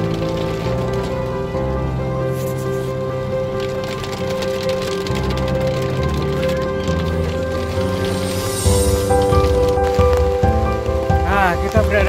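Rain falls steadily at the Jolotundo ancient site, a Majapahit-era relic, forming a constant wash across the whole scene with other layered background sound mixed in.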